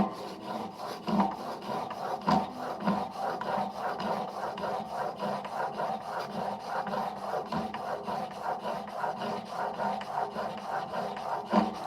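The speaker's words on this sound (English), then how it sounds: "that sounds like my bearing might need a little oil" A sharpening machine whose bearing needs oil runs up close with a continuous rasping, rubbing grind that pulses in a steady rhythm.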